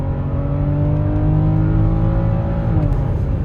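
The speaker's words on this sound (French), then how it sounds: "on a la noblesse du 6 cylindres en ligne. Et là, clairement, c'est le meilleur des moteurs, la meilleure sonorité" A BMW X5 45e plug-in hybrid SUV's inline six-cylinder petrol engine hums steadily and fairly loud, with a rich, smooth tone that rises slightly under throttle for a few seconds without any talking.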